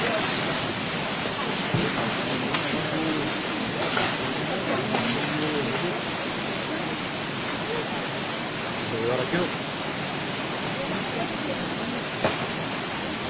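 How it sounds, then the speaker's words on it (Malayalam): Pamba river floodwater rushing near Sabarimala during rain, a continuous broad roar of surging water with rain hiss layered over it, dense and unbroken throughout. "വെള്ളം വരുന്നേ ഉള്ളൂ, ഇതാ നേരെ വരുന്നേ ഉള്ളൂ."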